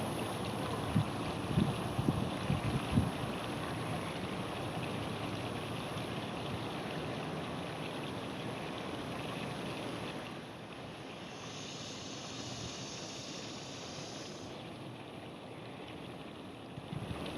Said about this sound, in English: We have one of our runnels splashing water right here.